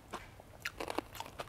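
Quick cucumber kimchi (sobagi) is bitten into close up, giving several short, crisp crunches in a brief burst over a soft room background.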